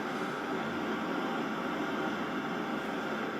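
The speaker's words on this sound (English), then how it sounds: "I'm also going to play some jet engine white noise to see how good the active noise cancellation is." Jet engine white noise plays at full volume through wireless earbuds, a steady, dense, unbroken hiss and roar that holds at an even level throughout.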